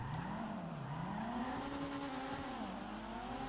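A Dinka Jest, the game's Toyota Supra, in GTA 5 Online revs and revs again with a wavering engine note. Tire squeal mixes in as the car drifts. Nobody speaks, and the sound is close and steady.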